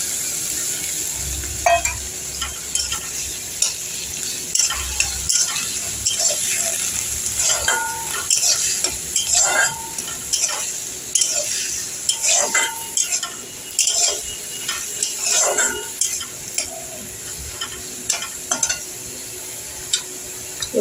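Onion paste being stirred and fried in a pan for a lentil-fritter curry (daler borar jhal): a bed of sizzling under repeated spatula scrapes and sharp metallic clinks against the pan, close up and without speech.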